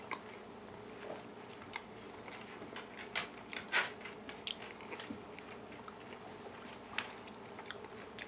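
Crunchy bites and chewing of salted crackers topped with lemon dill flaked light tuna, faint close-up crunches scattered irregularly over quiet room noise, with no talking.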